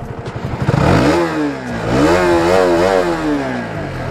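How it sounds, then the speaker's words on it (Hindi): A 2021 KTM RC200 BS6 motorcycle engine revs up loudly and close by, climbing in pitch, dropping back, then rising again in a wavering, sustained rev with no talk over it. "बाइक का साउंड सुना देता हूँ मैं आपको एक बार"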